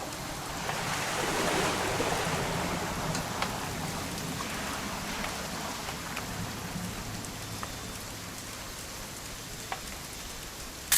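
Steady rain in the video game What Remains of Edith Finch falls and patters on surfaces in a constant hiss, with occasional louder drips.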